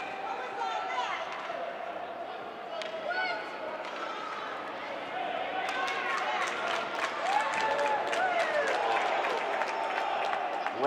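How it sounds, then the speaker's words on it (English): Fans at an ice hockey game break into scattered, then swelling applause and clapping across the rink, building in the second half amid arena noise and a commentator talking. "And then some applause when they realized it wasn't against them."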